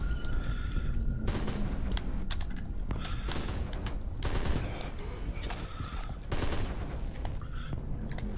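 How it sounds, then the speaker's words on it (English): Rapid bursts of video game gunfire from Quantum Error on PS5, machine-gun fusillades and heavy booms repeating through the scene, loud and dense over a constant game backdrop, with faint talk underneath. "I'm gonna go ahead and shoot."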